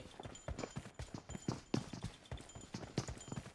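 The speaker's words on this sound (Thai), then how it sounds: "เสียงเท้าในบ้านเห็ด" Quick, regular footsteps patter across hard ground inside a house in PUBG Mobile, with a hollow, clopping quality, close by and fairly loud, no voices over them.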